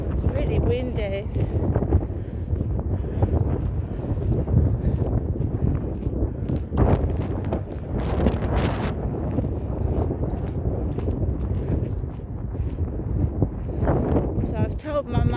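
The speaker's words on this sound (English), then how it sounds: "It's really windy." Gusty wind on a morning walk outdoors, buffeting the microphone in a constant loud rumble that surges in stronger gusts, heard throughout under a person talking.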